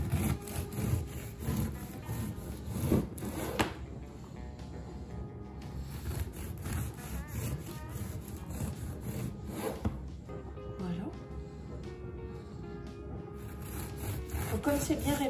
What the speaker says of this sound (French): Maintenant, je vais le couper avec un couteau à dents.